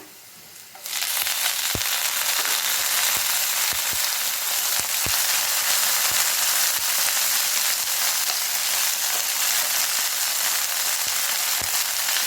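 Curry leaves and coriander sizzling in hot oil for green chilli chutney, a loud steady crackling fry starting abruptly and continuing, with occasional light taps of a spoon stirring in the pan.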